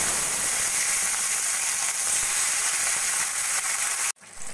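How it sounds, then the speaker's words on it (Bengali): Pieces of rohu fish fry in hot oil in a wok, giving a steady, close, dense sizzle that holds evenly for about four seconds before cutting off abruptly. "এদিকে আমার কড়াইতে তেলও গরম হয়ে গেছে। এবার আমি মাছগুলো ভেজে নেব।"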